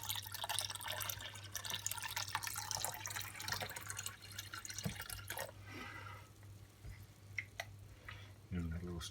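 Water-glassing solution pours into a bucket of eggs, producing a continuous, soft, splashy trickle, with low background hum and faint drips as it tapers off.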